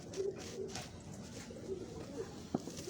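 Pigeons coo softly in low, repeated murmurs, faint and somewhat distant against a quiet outdoor background.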